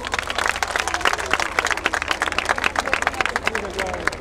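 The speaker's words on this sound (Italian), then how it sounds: "Se vi è piaciuto il numero 2, applauso per lui" Scattered audience clapping with crowd murmur follows a call for applause for the second contestant at a live comedy show in Brindisi. The clapping is steady and moderate, with voices mixed in.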